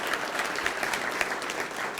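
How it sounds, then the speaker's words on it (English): An audience at a Bitcoin conference in Austin claps steadily, a dense patter of hands filling the room for about two seconds with no speech over it. "Everybody give him a hand,"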